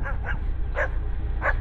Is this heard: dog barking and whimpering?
yes